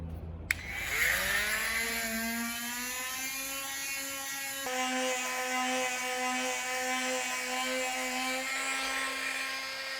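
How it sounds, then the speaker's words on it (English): An oscillating multi-tool with a Starlock sanding pad whirs at a high, steady pitch, a loud continuous buzzing drone with a slight change in tone partway through as it sands a surface. "now we've changed over to the Starlock sanding pad"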